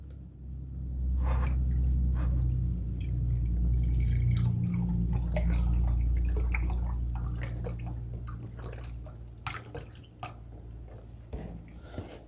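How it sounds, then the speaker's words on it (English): Beef broth, about two cups, pours steadily into a pan of fideo with ground beef, a sustained liquid splashing and sizzling that runs for several seconds, then thins to scattered drips and small pops as the flow stops. "I'm gonna put some of that beef broth in there."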